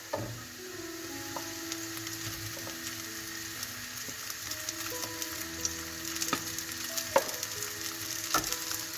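Rice being stirred into sweet and spicy chicken in a one-pot dish, a steady close sizzle with occasional sharp clicks and scrapes of a utensil against the pot.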